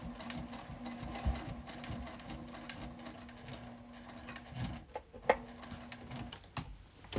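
A sewing machine stitches slowly through a thick quilted jacket seam, a faint rapid mechanical whir with a steady hum and occasional clicks and knocks, with no voice over it.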